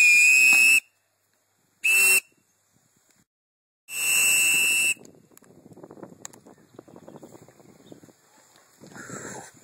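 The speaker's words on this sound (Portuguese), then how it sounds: "Apita." A referee's whistle at an outdoor paintball game gives three loud, shrill blasts, two short and one longer, followed by faint rustling and distant movement.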